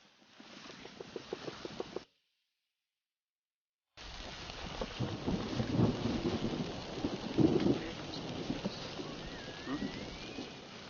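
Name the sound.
thunder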